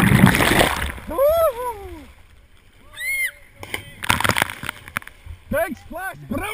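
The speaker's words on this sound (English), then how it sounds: "Big splash! Brilliant jump!" A person jumping into the sea while coasteering, hitting with a loud, sharp splash at the start that dissolves into sloshing water, followed by excited cheering and talking voices.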